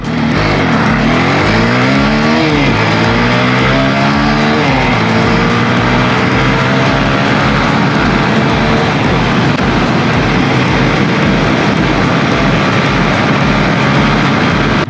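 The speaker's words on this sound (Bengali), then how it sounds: "just a friendly drag race" Motorbikes in a friendly road drag race roar loudly and continuously as they pull away from a standing start, engine pitch climbing through the gears close by.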